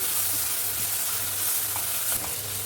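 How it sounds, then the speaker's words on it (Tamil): Garlic paste sizzles and is stirred in a hot pan for a garlic-pepper kuzhambu, giving a close, continuous frying hiss with soft rhythmic scraping strokes and no talking. "இந்த பூண்டு ஸ்மெல் போகிற வரைக்குமே வந்துட்டு நம்ம நல்லா வதக்கி விட்டுக்கலாம்"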